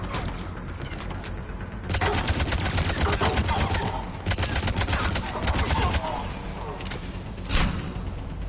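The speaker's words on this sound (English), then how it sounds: "Commander, we're getting a lot of mortar fire." Mortar and gunfire in a sci-fi battle game against Cerberus forces, a continuous dense stream of rapid shots and blasts with a louder thump near the end.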